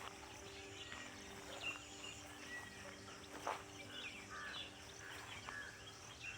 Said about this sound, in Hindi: कौवे की आवाज़, चिड़ियों की आवाज़,